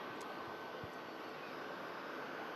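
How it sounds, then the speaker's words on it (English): Boeing 737-800 departing Manchester Airport for Tel Aviv, its jet engines giving a steady, distant broadband roar that holds even throughout, with no speech. "Aircraft heading out to Tel Aviv. Boeing 737-800."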